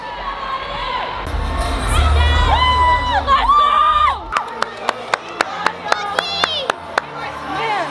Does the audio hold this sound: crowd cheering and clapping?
yes